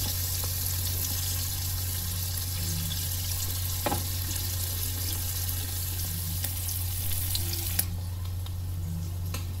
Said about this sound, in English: I'm going to let it fry.